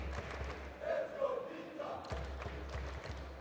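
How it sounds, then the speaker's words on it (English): A Counter-Strike esports crowd of Vitality fans at a StarLadder Major match on Dust2 cheers and shouts in a hall, swelling in uneven bursts at moderate distance. "Vitality fans still cheering their team on, hoping for a return"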